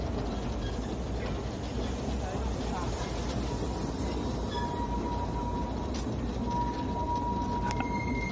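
Train running along a heritage railway line, heard from aboard as a continuous loud rolling rumble with clattering wheels, occasional ticks and a thin squeal tone late on, someone narrating over it.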